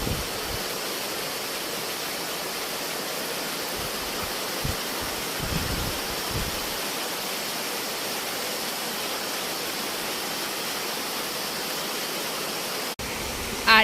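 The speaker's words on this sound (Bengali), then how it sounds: "আর এই ফুলগুলোতে জল পড়ছে" Rain falls steadily on flowers outside a house, making a dense, even hiss of water that runs unbroken throughout, with a faint knock or two near the end.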